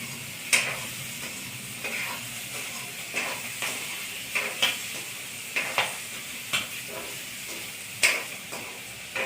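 Fresh green chickpeas roasting on a hot griddle give off a steady soft sizzle, with sharp scraping taps of a spatula at a loose, regular rhythm.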